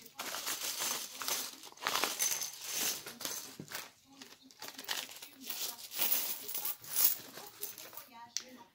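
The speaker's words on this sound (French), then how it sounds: "Donc je prends avec mon gabarit, là, hop, je coupe mon bout de tissu." A piece of fabric is cut along a template for a handmade upholstered headboard. Close, crisp rustling and crinkling with repeated short snipping bursts runs steadily throughout.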